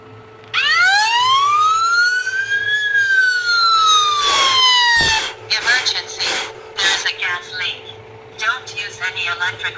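A Tuya Wi-Fi natural gas leak detector sounds its alarm siren, a loud rising-and-falling electronic wail up close, then breaking into choppy bursts, with a voice heard alongside.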